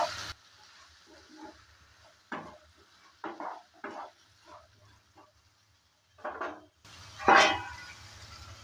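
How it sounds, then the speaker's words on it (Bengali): Potato and bathua greens frying in a pan with turmeric and salt, stirred in a series of short scraping strokes with quiet gaps between, ending with a louder sizzling burst. "হলুদ আর লবণটা দেওয়ার পর ভালো করে নেড়ে চেড়ে নিচ্ছি আবারও।"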